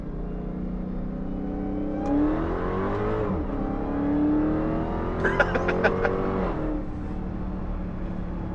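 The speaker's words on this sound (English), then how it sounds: "Definitely had some wheel spin there." A 2022 Dodge Charger Hellcat Redeye engine drones loudly and steadily, then rises as it accelerates, with a brief burst of rapid ticking and chatter as the tires spin.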